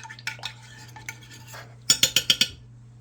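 Chicken and mushroom mixture being stirred in a crockpot, first soft scraping and muffled sloshing, then five quick bright clinks of the spoon against the pot in an even rhythm, close and fairly loud.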